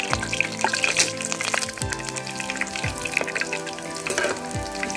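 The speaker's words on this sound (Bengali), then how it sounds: "তার আগে আমি কারি পাতাটা ভেজে নেব।" Curry leaves sizzle as they fry in hot oil for a chicken 65 dish, giving a steady crackle with sharp pops and a few scraping stirs of the pan.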